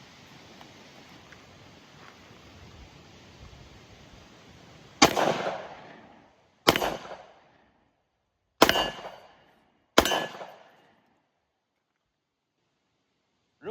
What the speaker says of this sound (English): We're just gonna shoot it a little bit, see how that feels.